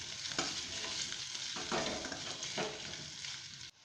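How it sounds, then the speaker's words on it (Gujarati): Potatoes frying in oil for dum aloo, stirred after red chili is added, giving a close, loud, hissing sizzle broken by a few sharp stirring scrapes before it cuts off. "હવે આપણે તેમાં લાલ મરચું એડ કરીશું અને હલાવી લઈશું।"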